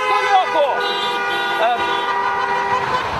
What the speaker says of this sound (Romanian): a claxonat așa cum a putut împotriva lui Dodon